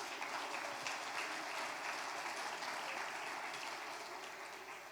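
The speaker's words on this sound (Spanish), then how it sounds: "Un aplauso, por favor," A classroom group gives continuous applause for students who scored full marks, steady and even clapping throughout that slowly fades toward the end.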